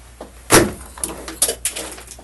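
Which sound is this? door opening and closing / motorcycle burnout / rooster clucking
door opening and closing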